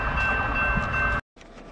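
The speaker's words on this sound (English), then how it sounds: "There's the other train." A loud, steady roar of a passing train with a sustained whistle-like tone, close by, cutting off abruptly into quieter background.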